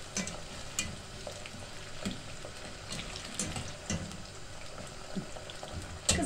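Potato wedges, cut like apple slices, fry in hot oil in a pan at home: a steady, dense sizzle with scattered sharp crackles and pops throughout, no voices.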